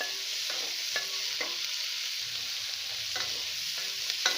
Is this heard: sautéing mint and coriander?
yes